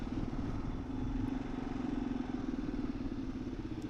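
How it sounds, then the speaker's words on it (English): 2023 Kawasaki KLR 650 motorcycle riding on a gravel road, a steady low engine drone with a constant rumble and faint crunching texture, no voices. "So just real quick there, how the bike reacts on the gravel."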